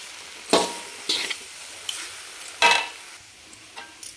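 Besan mixed with a splash of milk scraped and stirred in a pan over low heat for laddu, giving several separate scraping strokes with a soft sizzle, close and moderately loud, with no talking.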